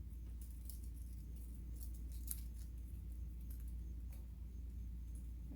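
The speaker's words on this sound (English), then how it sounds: "you cut the strips to about half of what they are" Scissors snipping paper strips for a craft ribbon wand, producing quick, faint crisp snips over a steady low background hum, close up and with no talking.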